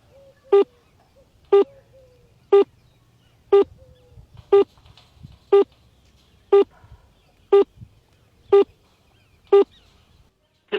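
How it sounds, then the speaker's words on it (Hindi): Outgoing call tones sound for a mobile phone buried in cow dung: about eleven evenly spaced short beeps, roughly one per second, clear against a faint low background hum. "ये मोबाइल से गोबर के अंदर दबे हुए मोबाइल के अंदर हम फोन लगा रहे हैं"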